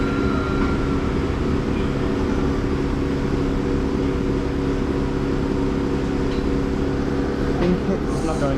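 A locomotive pulls out from a station platform in West Sussex, a continuous, even engine drone and rumble with a steady hum that stays constant throughout, fairly loud and close.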